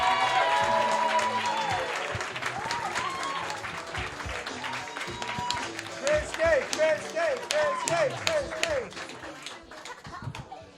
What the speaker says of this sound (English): Clap it up as loud as you can for Christi